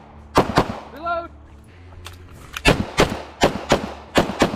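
Pistol shots fired at a shooting range in a two-shooter drill: a sharp pair of reports, a pause, then a rapid string of six or so loud close shots, with a tonal beep and brief voices between.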